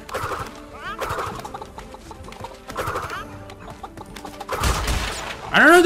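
A cartoonish chicken clucks repeatedly in the Crash Bandicoot 3 Warped game, with choppy bursts of game effects around it and a louder squawk at the end.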